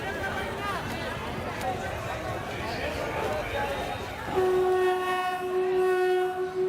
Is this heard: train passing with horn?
yes